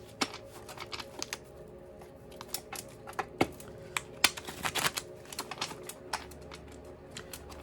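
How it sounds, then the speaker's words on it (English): Tarot cards being shuffled in short, uneven bursts of riffling and flicking, fairly quiet and close, with brief pauses between. "this is really shitty shuffle"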